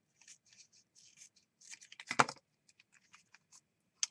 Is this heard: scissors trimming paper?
yes